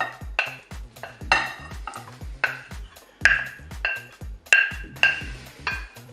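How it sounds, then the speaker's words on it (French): Metal utensils clatter and scrape against a salad bowl as ingredients are tipped onto potatoes for a Piedmontese salad, giving a run of close, sharp clinks and taps in uneven rhythm with no talk. "Je vais rajouter tous les ingrédients dans le saladier de pommes de terre."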